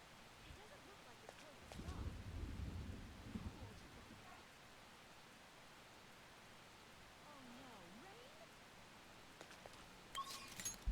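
Steady rain with a deep thunder rumble from a Persona 5 Royal game scene, a low roll building early then fading under continuous rainfall, with faint talk in the background.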